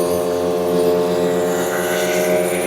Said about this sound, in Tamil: போட்டில் இப்போ ரெண்டு இன்ஜின் மட்டும்